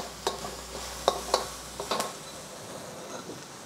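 Ginger, garlic and peppers stir-fried in a pan: a soft sizzle under a few light scrapes and clinks of a utensil against the pan, fairly quiet and close.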